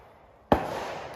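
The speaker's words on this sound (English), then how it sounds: "If y'all can hear the shooting in the background, sorry about that." A single sharp gunshot cracks out at a shooting range, followed by a lingering rumble of echo and background noise.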